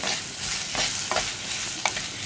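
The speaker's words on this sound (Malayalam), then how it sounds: "സവോളയൊക്കെ ഒന്ന് ട്രാൻസ്പെറൻ്റ് ആയി വരുന്നത് വരെ ഒന്ന് ഇളക്കി കൊടുക്കുക" Onions sizzle steadily in a hot pan, cooking until translucent, while a spatula stirs and scrapes a few times, close up.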